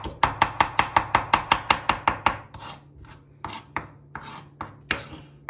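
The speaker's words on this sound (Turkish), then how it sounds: "Bunu böyle ince ince doğradıktan sonra" A knife chops ingredients finely on a board in a home kitchen: a fast, even run of close, crisp strikes that slows into looser, irregular chops, with no talking.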